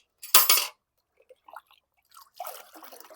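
Water splashes onto potted rose plants in short bursts, a strong pour first, then scattered drips and trickles that come close and clear, with no talk.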